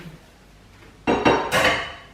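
Dishes being washed by hand at a kitchen sink, with a few loud clattering bursts of pots, plates and cutlery knocking together after a quiet start.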